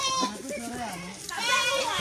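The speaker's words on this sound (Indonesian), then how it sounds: "Seperti ini bos penampakan kambing-kambing kita ya" Goats on a smallholding farm, bleating several times up close with a wavering, nasal tone, the calls overlapping one another.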